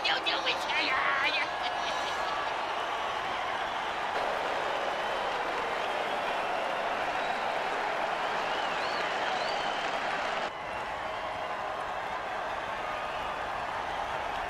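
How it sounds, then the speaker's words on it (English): A stadium crowd at an American football game roars steadily throughout, a dense, sustained wash of cheering and applause with voices talking over it. "Oh, crowd's loving it."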